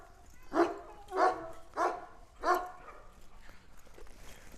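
A quick, agile dog barks four times in an even, spaced rhythm, close and fairly loud, then falls quiet.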